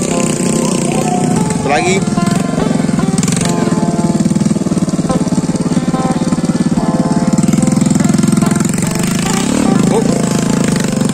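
Motorcycle engine revving steadily and loudly on a rough, muddy road like a rice field, a continuous droning hum with rising surges, while someone talks briefly over it.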